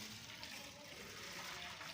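Water is poured into a pot of rice soaked as pigeon feed, a steady broadband splashing and rushing stream that runs the whole time without pause, close and moderately loud.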